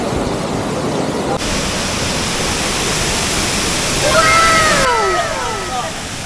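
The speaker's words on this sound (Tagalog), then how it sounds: "Pasok ka na sa Balagbag Waterfalls." Balagbag Waterfalls in Quezon roars with rushing water, a dense, steady, close wash of noise, with brief whistling tones rising and falling near the end.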